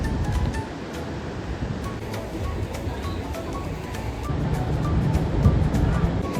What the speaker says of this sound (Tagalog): Grabe yung alon dun, no?